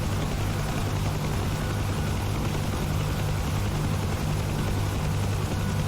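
A Huey helicopter in a flight video game spools up for takeoff, giving a steady, dense rotor and engine roar that holds level throughout with no voices.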